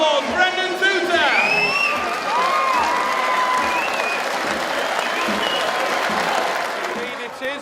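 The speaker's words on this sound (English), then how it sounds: "please put your hands together and give him a massive Featherstone round of applause" Rugby league crowd at a Featherstone versus Bradford Bulls match applauds and cheers loudly, with whoops and shouts rising over sustained clapping throughout.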